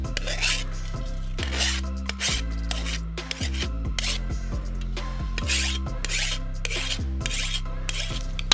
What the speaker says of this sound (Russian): Напильником убираю заусенцы.